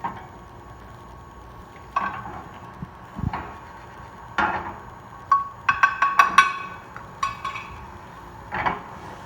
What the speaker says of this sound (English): While Rachid washes a dish